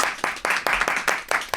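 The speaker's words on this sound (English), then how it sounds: "That's another round of applause." A studio audience claps in bursts, several sharp rounds of applause rising and fading in quick succession, fairly close and lively, with no talking over it.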